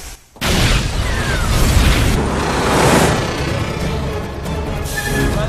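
A sudden loud explosion erupts at a prison, followed by a sustained rumbling roar and crackling debris that continues for several seconds.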